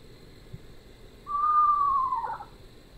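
Eastern screech owl call played from a bird app: one clear, sustained whistled note that holds steady and then drops into a brief trill, standing alone against a quiet background.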